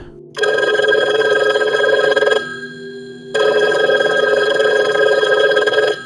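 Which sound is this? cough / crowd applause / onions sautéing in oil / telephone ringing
telephone ringing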